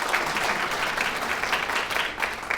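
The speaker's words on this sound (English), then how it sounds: "Yes, give them a round of applause," Audience at a city State of the City address clapping steadily, a dense continuous round of applause throughout with no talk.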